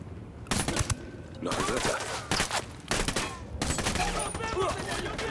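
Dense bursts of automatic gunfire from a tactical shooter video game set in an open-world Bolivia, sustained volleys with brief gaps, loud and close, with a voice speaking faintly in between.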